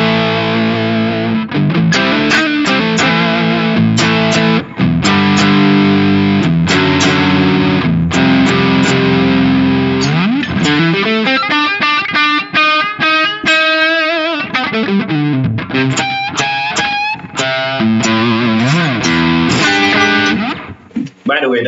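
An electric guitar plays through a Boss SD-1 overdrive pedal set at 12 o'clock, loud and gritty chords and riffs with sustained distorted notes, continuous and up close.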